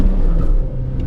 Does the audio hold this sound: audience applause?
no